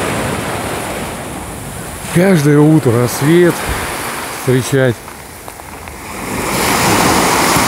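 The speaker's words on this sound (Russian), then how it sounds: "вот этот шум моря." Waves wash steadily onto the Azov Sea shore at sunset, a soft continuous surf rush that swells near the end, while someone speaks briefly over it in the middle.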